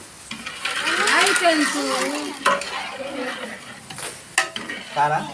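Sugar syrup for laddu is stirred in a pot with scraping strokes and a background sizzle, punctuated by a few sharp knocks of a utensil against the metal. Voices chatter over it throughout.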